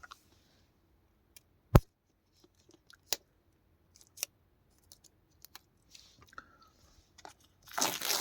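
A Blu-ray steelbook package being opened and handled at close range, with sparse sharp clicks and crinkles spread across the stretch, then a rising rustle of plastic at the end. No one speaks.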